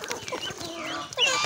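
Chickens feeding on azolla, clucking and murmuring close by in short, uneven bursts, with one louder call at the end.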